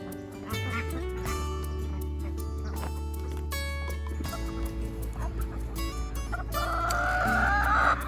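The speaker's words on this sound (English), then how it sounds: "Here are the hens." Hens cluck and murmur close by, with occasional louder squawks and a rising chorus of calls near the end over a steady low hum.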